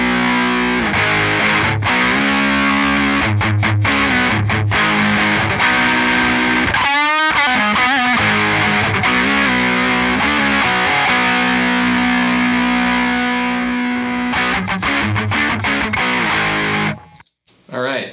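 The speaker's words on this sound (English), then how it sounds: "if you heard that noise when I turn on the distortion pedal" An electric guitar runs through a distortion pedal turned all the way up, with loud, thick, saturated chords ringing continuously. A brief choppy break comes midway, and the sound cuts off abruptly near the end.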